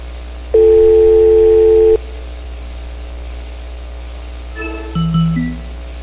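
Phone dial tone in a VR utility-substation training simulation for SF6 gas circuit breaker switching, a steady tone lasting over a second, then a short pause and a few brief dialing beeps over low hum.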